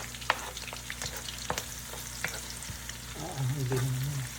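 Garlic frying in a pan after onions, with a soft steady sizzle, scattered utensil clicks and stirring, and a louder burst of sizzling near the end; a cook for jackfruit in coconut milk.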